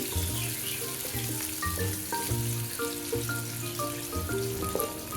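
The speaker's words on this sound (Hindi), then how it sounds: "प्याज को हम अच्छी तरह लाइट ब्राउन कर लेंगे" Sliced onions frying in oil in a pan outdoors give off a steady, close hiss and crackle, with a melodic tune playing over the sizzle.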